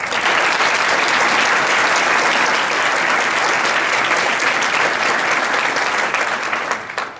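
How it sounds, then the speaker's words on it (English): Sustained, loud applause from an audience at an annual awards ceremony honoring recipients, dense and steady throughout before it tapers off at the end. "let's have one last round of applause for all of our recipients"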